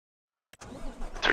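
A Volvo truck engine in Farming Simulator 25 cranks after a moment of silence and catches, settling into a low, steady mid-range rumble that swells slightly toward the end, heard close and alone.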